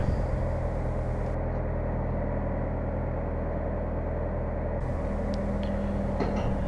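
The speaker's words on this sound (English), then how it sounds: "the excavator was brought in again to lift the wheel away" An excavator lifts a wheel off the bogie of a Valmet 911.3 forest machine during hub removal. A loud, steady diesel engine rumble drones throughout, close by, with a few faint metallic clinks near the end.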